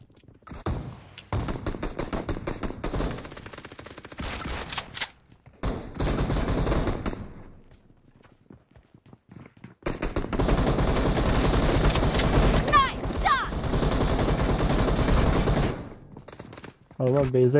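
Dense automatic gunfire in the PUBG Mobile battle royale game, with long loud sustained bursts broken by brief pauses and a quiet stretch, while players talk over the shooting.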